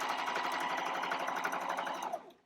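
A sewing machine runs steadily, top stitching the fabric of a cloth diaper wet bag in a continuous fast mechanical whir that stops abruptly near the end.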